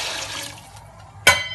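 Three cups of water being poured into a pan while making rava upma, with a short splashing gush near the end after quieter kitchen sounds.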